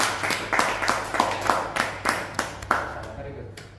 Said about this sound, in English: Let's give applause for Ahmed.